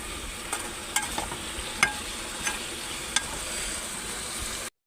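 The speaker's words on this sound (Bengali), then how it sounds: "দিয়ে ভালো করে কষিয়ে নেবো।" Spice masala sautéing in a pan for Bhola fish curry, a soft continuous sizzle under sharp intermittent scrapes and clinks of a spatula stirring, close by and without talk.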